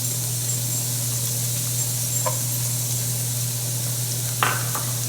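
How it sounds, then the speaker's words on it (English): Chopped onions sizzle in olive oil in a pan for a keto meatloaf, a steady close frying hiss throughout with a couple of brief utensil clinks. "We'll add the onions, the chopped onions,"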